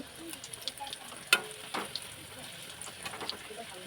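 Food deep frying in hot oil in a home kitchen gives a soft, continuous bubbling sizzle, with a few brief clatters from cookware and quiet voices in the background.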